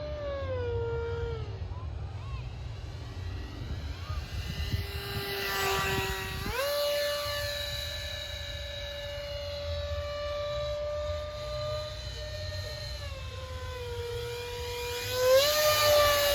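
An EDF FB-28 remote-controlled ducted-fan jet flies overhead, its high whining turbine tone steady and strong, sliding lower and back up as the throttle changes and growing louder toward the end as it passes close.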